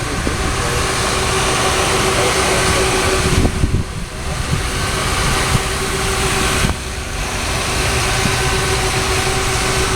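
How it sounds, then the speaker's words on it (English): Stunt show cars idling and revving their engines, a loud steady rumbling drone with a couple of brief dips, heard from some distance in a large open setting. "rev their engines up to 70 miles per hour before making their high-speed entrances onto the stage"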